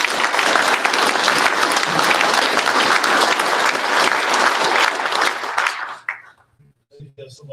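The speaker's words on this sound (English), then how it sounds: "round of applause for these guys" Audience at a drag racing awards ceremony breaks into loud, sustained applause that fills the room for about six seconds, then fades to scattered claps and quiet.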